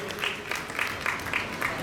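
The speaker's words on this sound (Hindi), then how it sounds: "जल्दी से आइए, जोरदार तालियों से स्वागत कीजिए।" An audience at a ceremonial celebration applauds to welcome a guest, the clapping a dense, even patter with a few louder bursts, and no voice on top.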